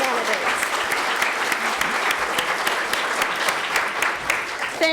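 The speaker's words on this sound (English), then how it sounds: "Okay, now you can clap." Audience at a 2015 election candidate forum applauds the candidates, a steady, dense clapping that fills the room at even loudness for the full stretch, with no break.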